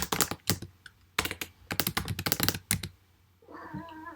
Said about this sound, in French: alors désolé si vous entendez le chat